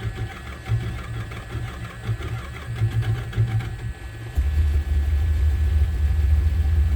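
A 1976 Newport car engine is started for the first time in eight years. Uneven cranking pulses run for about four seconds, then the engine catches and settles into a loud, steady, low idle rumble.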